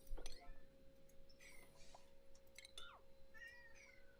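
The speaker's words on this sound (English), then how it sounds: "This kitty right here." A pet cat gives several soft, high meows close by, quiet against a faint steady hum.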